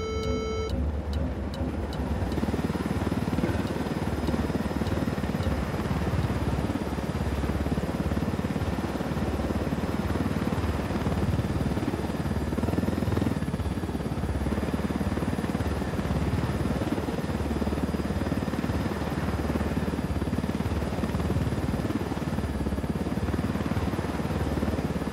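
A helicopter in the video game Ghost Recon Wildlands flies low through a canyon. Its engine gives a steady, droning rotor hum that stays constant and close for the whole stretch, with no voices over it.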